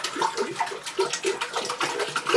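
About a gallon of water pours into a cooking pot in a kitchen, a continuous bubbly splashing and gurgling stream, close and steady, with no talking.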